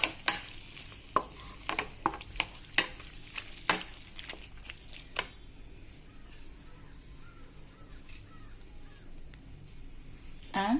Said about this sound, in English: I'm going to give it a quick stir